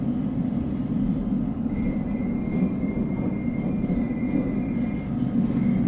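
ALP-46 New Jersey Transit electric locomotive in a train simulator game, running slowly on the line from New York Penn Station toward Rahway, giving a steady low rumble with a faint high tone, continuous and unbroken.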